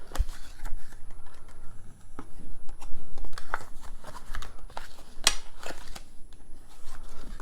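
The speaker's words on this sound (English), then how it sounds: "This is probably the part that takes the longest, is just burnishing all these fold marks." A paper gift card box has its fold marks burnished by hand, producing close, dry scraping and rubbing strokes in irregular short bursts with occasional sharper paper crinkles and taps.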